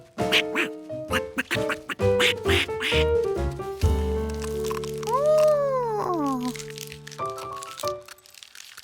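Cartoon ducklings quack amid busy music and voices, their calls brief and repeated, fairly close and mixed into a loud, crowded soundscape.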